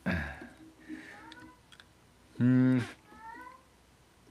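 A cat meows once, loud and close, in a single drawn-out call midway, surrounded by faint clicks and quiet human vocal sounds in a quiet room.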